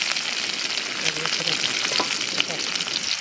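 Chopped ginger and garlic fry in oil, after mustard seeds have popped, for a papaya thoran, giving a loud, close, continuous sizzle with faint crackles and no voices.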